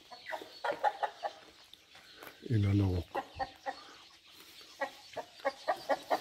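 Bosveld chickens and turkeys cluck repeatedly at a poultry farm pen, close and busy, with one loud drawn-out call midway, while a person talks over them.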